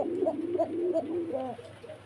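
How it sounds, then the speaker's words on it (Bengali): Soft, low cooing of a Koka pigeon repeats in a steady rolling rhythm, several throaty coos close by over a faint background hum. "আগে ডাকটা শুনবো, পরে কবুতরের কথা বলবো।"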